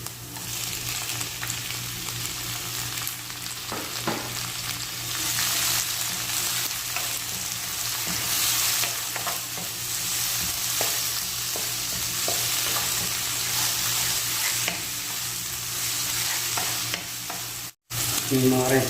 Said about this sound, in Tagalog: Kapag gisang-gisa na yung ating bawang at saka sibuyas, sunod na natin mga ka-recipe yung ating kamatis.